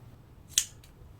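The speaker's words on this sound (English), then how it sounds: "and cut off your yarn." A single sharp snip of scissors cutting through crochet yarn, close and brief, in an otherwise quiet room.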